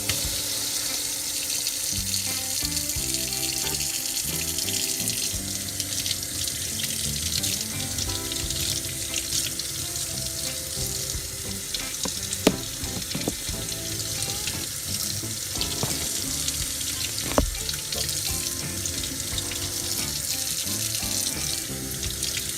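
Kitchen tap running steadily as fresh chilies are rinsed under the water, a continuous close splashing stream with a couple of brief knocks against the sink.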